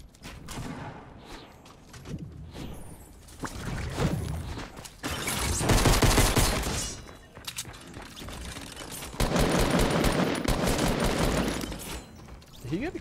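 Gunfire in a shooter video game, bursts of rapid shots in two loud, dense stretches separated by quieter gaps, close and harsh, with mechanical clicks between.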